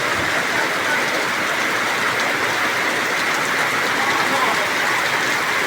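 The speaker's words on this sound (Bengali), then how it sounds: "প্রচুর বৃষ্টি হচ্ছে, অসাধারণ বৃষ্টি।" Heavy rain pours down outside roadside shops, a dense, constant roar of falling water that stays loud and even from start to finish.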